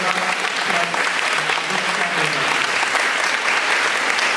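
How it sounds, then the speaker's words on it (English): A full room applauds sponsors at the Pink Dot 10 ambassador and campaign video launch event, steady dense clapping from a large crowd, loud and unbroken throughout. "We would like to ask everyone to give a very warm round of applause for our sponsors"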